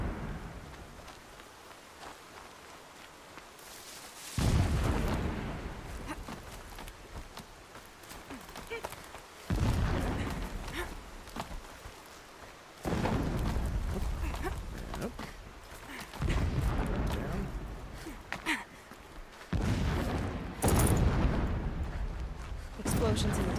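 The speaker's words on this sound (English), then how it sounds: "Explosions in the distance." Distant explosions rumble in the video game Horizon as a series of heavy, broadband bursts and booms that come in several loud waves, with people talking over them.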